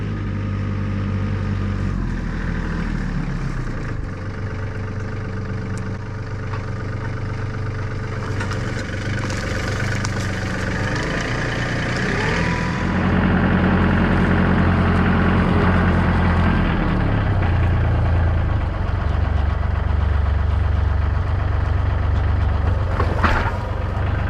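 A tractor fitted with an Artillian grapple runs at idle with a steady low engine rumble, then the revs rise and the engine works harder partway through, continuous and close with no talk.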